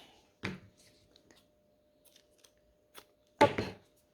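Cutting snips with scissors while a finger protector sits on the finger, a few sharp isolated crunches spaced apart in a quiet room, the last one loudest, with no talking.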